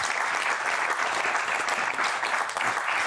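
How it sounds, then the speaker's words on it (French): A French TV studio audience claps steadily for a guest, a dense, even wash of applause that holds at a constant level from start to finish, with no voices over it. "Applaudissements pour elle."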